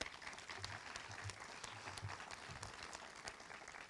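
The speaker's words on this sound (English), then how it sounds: "A round of applause for those folks." A crowd applauds at a teacher campus dedication ceremony, with faint, distant, scattered hand claps under low room rumble, steady for a few seconds.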